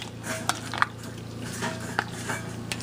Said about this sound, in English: Just kind of mix it around a little bit.